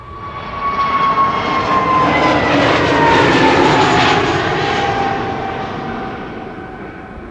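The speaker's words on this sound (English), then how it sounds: "This is SAS Flight 552 going to Copenhagen. It's an A320neo" An SAS Airbus A320neo departing Amsterdam Schiphol for Copenhagen roars past loudly, its jet engine noise swelling to a broad peak midway and then slowly fading, with a steady whine over the rumble and no talking.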